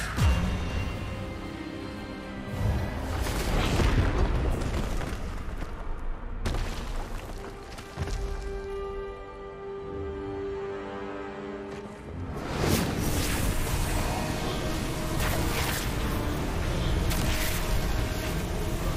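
A disarming spell blast from Hogwarts Legacy erupts in loud, booming whooshes, with several powerful swells of magical energy rolling in and fading over a dense, continuous game soundscape.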